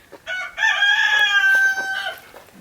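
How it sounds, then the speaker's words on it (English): A rooster crows once, loud and close, a long drawn-out call over a quiet background. "This rooster is so rude."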